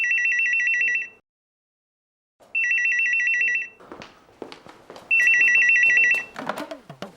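A telephone rings in three bursts of electronic trilling separated by pauses, with clattering and rustling noises between and after the later rings.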